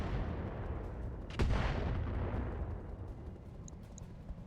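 A mech fires its weapons at a building in the video game RogueTech: one sharp, loud blast rings out and then decays into a rumbling tail, with a couple of faint high blips afterward.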